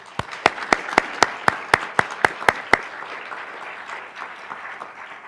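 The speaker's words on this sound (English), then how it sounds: "we should give a round of applause to Mike Devitt and to all the team for all of their great work" Audience applause at the final round of a moot court tournament: a dense wash of clapping with about a dozen sharp, loud claps standing out near the microphone in a steady rhythm, then the crowd's applause thinning out and fading.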